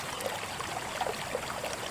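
A river flowing calmly through a wetland in Latvia, a faint, soft trickle and gurgle of water that continues steadily on its own.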